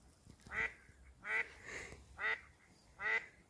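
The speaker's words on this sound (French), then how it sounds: "il y a des canards là-bas." Ducks on a calm lake give four clear, raspy quacks spaced about a second apart. The calls come from a moderate distance over a quiet, faintly hissing background.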